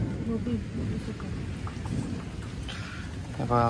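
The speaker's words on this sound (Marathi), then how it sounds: "तर आवाज आहे का कसला खतरनाक पाऊस येणार आहे" Heavy monsoon rain pours steadily with low thunder rumbling underneath, recorded close, with a brief voice near the end.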